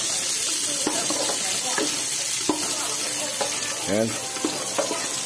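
Onion sizzles in a hot pan while a utensil stirs and scrapes through it, giving steady frying crackle with scattered clinks and scrapes, close up. Someone says a brief word partway through.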